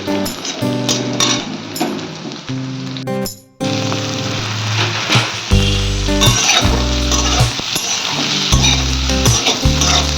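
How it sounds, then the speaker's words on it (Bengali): Leftover rice fries in a pan with onion, egg, capsicum and carrot, a loud close sizzle broken by stirring and scraping over a tonal background, likely music. "পেঁয়াজ ডিম আর ক্যাপসিকাম আর ক্যারেট দিয়ে একটুকুনি ভাতটাকে ভেজে নেব"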